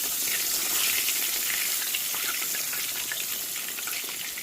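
Thin pork chops frying in hot oil in a pan, a dense bright crackling sizzle that holds steady throughout, close and alone without any voices.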